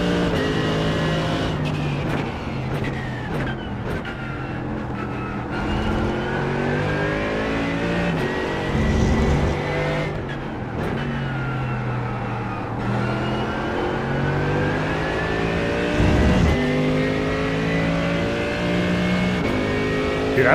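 A Mercedes race car engine on a qualifying lap roars continuously and close, its pitch climbing and dropping through gear changes and corners, with a few sharp clicks and no voices.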